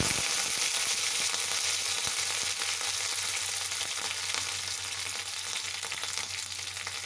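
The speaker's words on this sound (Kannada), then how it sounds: "ಈಗ ಕರಿಬೇವು ಹಾಕ್ಕೊಳ್ತಾ ಇದ್ದೀನಿ." Curry leaves frying in oil for a chutney tempering, a loud continuous crackling sizzle with sharp pops that eases slightly toward the end, no speech.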